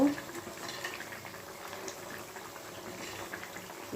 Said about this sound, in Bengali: মাছের ঝোলটা একদম ফুটে উঠেছে